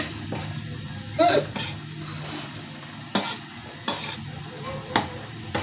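Menudo being stirred in a cooking pot, with a soft simmering sizzle under spaced scrapes and clanks of a spoon against the metal, close by and without talk.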